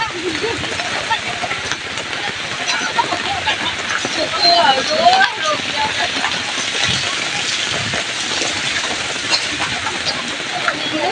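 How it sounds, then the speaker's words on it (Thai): Steady light rain patters on a surface with broad continuous hiss, background chatter and occasional ducklike quacks mixed in. "วันนี้สายฝนโปรยปลายครับ"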